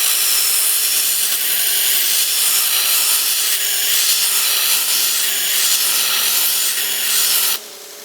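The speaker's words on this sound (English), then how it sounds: "I'll use the slack belt and I'll run it along the slack belt." Slack belt grinder polishing a blade forged from a railroad spike, a steady bright abrasive hiss of steel against the running belt, loud and close, ending abruptly as the blade lifts away.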